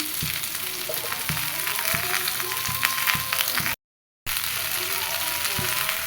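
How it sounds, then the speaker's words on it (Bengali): Spices frying with salt and turmeric in hot oil give a dense, continuous sizzle close by, broken by regular scraping and tapping from stirring and one brief silent gap. "হলুদ দিয়ে ভালো করে ভেজে নিতে হবে।"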